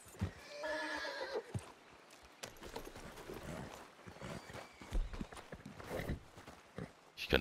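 A horse in the Red Dead Redemption 2 video game gives a loud whinny near the start, then its hooves clip-clop at a walk for the rest of the stretch, with other game sounds mixed in.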